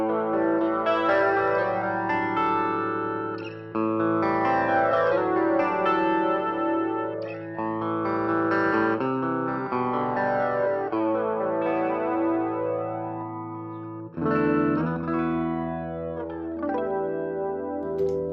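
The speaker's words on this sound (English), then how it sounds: "So it's obviously P90 pickups. And if I start with the bridge pickup" Electric guitar played clean through a Gibson P90 bridge pickup, bright and slightly nasal, strummed chords and picked notes with a chorus-like shimmer, loud and continuous.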